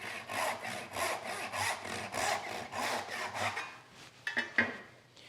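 Hand saw cutting wood through a zero-clearance jig with a groove beneath to stop tear-out, about nine steady rhythmic rasping strokes, close and loud, ending with a few light knocks.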